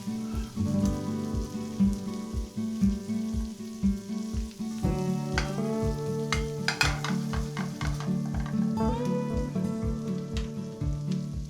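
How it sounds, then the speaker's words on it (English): Brussels sprouts sizzling and frying in a pan with homemade butter and bacon fat, stirred with a spatula; a steady close crackle runs throughout under background music, with scraping stir sounds breaking through. "I'll get the sprouts into the frying pan and give that a quick stir"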